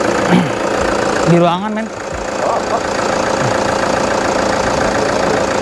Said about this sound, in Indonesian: suara mesinnya lebih adem ini daripada yang tadi